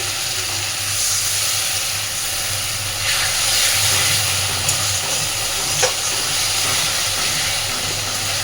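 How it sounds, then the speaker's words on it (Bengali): Water added to spiced potatoes frying in a pan, producing a steady, fairly loud broadband sizzle and hiss with a few faint clinks, no talk. "এবার আমি এর মধ্যে আরেকটু জল দিচ্ছি।"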